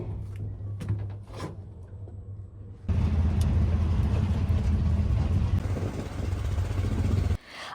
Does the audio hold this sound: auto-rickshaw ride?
yes